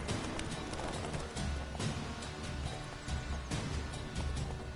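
Horse hooves clip-clopping at a run in Witcher 3 Wild Hunt, a steady galloping beat that carries through the whole stretch over a dense game soundtrack and ambience, with no voices.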